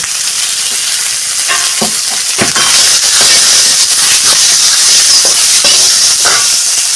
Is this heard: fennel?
yes